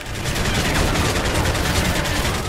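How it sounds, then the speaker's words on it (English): Grenade launcher fire in Call of Duty: Modern Warfare 3 on Xbox 360 comes as a dense, loud, sustained barrage of rapid blasts and crackling reports, filling the whole stretch without pause. "It's a grenade launcher, I think."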